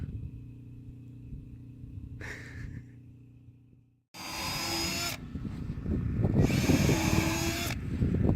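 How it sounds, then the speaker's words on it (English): Power drill boring into a wooden wall top plate during house framing, two loud sustained whirring bursts close by over a steady low rumble, with an earlier brief whine and a short silent gap. "here we are, drilling the top plate for one of the walls"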